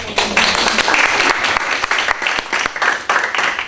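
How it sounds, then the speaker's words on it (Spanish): An audience applauds at a social work talk: dense, sustained clapping from many hands at close range, fairly loud and continuous for several seconds. "Un aplauso ahí para Mari."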